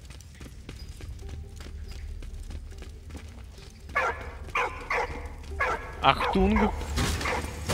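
A dog in the Great War game Valiant Hearts barks repeatedly in a quick, close burst over faint game ambience, with someone speaking briefly.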